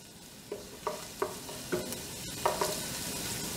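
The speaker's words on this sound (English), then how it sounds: "I just bubble it a little bit to get the garlic into the oil flavor" Garlic bubbles and sizzles gently in oil in a pot under a soft steady hiss. A series of small spattering pops and stirring scrapes arrives at a loose, even pace, close by and fairly quiet.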